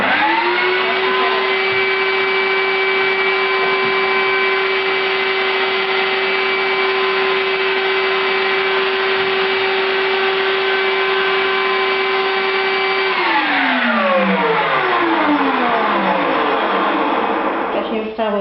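A vacuum cleaner runs loudly and steadily with a high whine, then its pitch drops and winds down near the end, close by.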